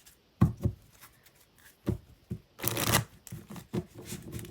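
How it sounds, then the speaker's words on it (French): Tarot deck being shuffled by hand, close and crisp, with bursts of riffling cards and a louder sustained flurry midway between softer card taps and slides, no talking. "Je vais bien mélanger pour éviter de retomber sur la même carte."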